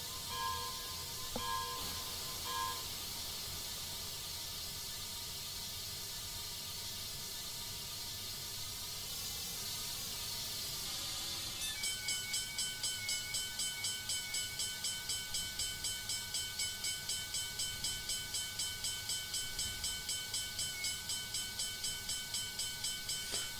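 An NKP S2 Berkshire steam locomotive in Train Simulator 2016 comes to a stop with a broad, continuous hiss of steam and rolling noise, then a fast, regular mechanical ticking and ringing tone take over in the second half.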